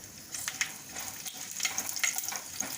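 Halved red chillies and a green chilli lightly frying in oil for mint rice, a soft crackling sizzle with scattered pops and light stirring, fairly quiet and close, without any talking.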